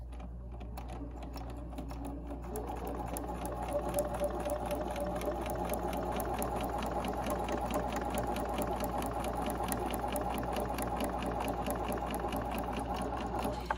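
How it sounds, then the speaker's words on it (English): A sewing machine stitches down the side of a quilt block for a road-trip navigation quilt, running in a steady, continuous rapid whir throughout with a low hum underneath, close and alone without talk. "And then I can turn it and sew down the other side."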